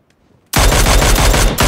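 Rapid automatic gunfire from the player's weapon in a multiplayer shooter video game, a loud sustained burst of shots starting abruptly after a brief near-silence, with a short break near the end before firing resumes.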